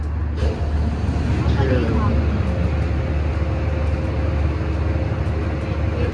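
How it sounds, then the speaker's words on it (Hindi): Boat motor running steadily just after starting on an outing near Guwahati, a constant low rumbling drone with broadband wash noise that stays even throughout, with voices talking over it. "इंजन स्टार्ट हो गया, आवाज़ तो आ गई है"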